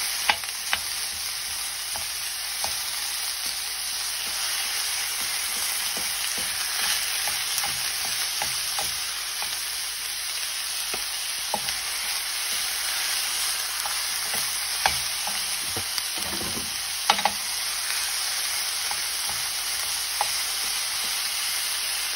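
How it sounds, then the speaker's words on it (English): Minced meat frying for a Bolognese sauce as a spoon breaks it up in the pan: a steady close sizzle runs throughout, broken by irregular scraping and tapping strokes of the spoon, with no talking. "So you need to break this up, just use a spoon, break it up, really break it up small."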